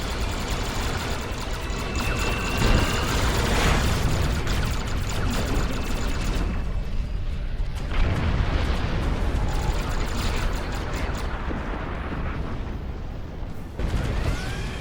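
Weapon fire and explosions in the Star Trek Online space game, with dense rumbling blasts and crackling bursts rolling on continuously under dramatic voiced dialogue.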